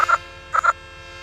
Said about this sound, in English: Then who hopped up but the big green toad?